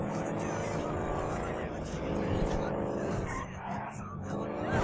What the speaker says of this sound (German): Fährt doch gut schnell, das Auto